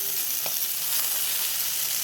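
Potato and capsicum pieces fry in hot oil for a curry, giving a continuous bright sizzle close by with no talking.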